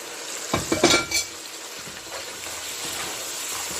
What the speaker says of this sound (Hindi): अब इसमें हम जो मसाले हमने पीसे थे वो ऐड करेंगे।